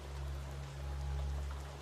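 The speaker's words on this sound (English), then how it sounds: "The rain is steady now, its sound blending with the distant call of night birds." Steady rain falling outside at night, a soft continuous patter with a low steady hum beneath it, even and unbroken throughout.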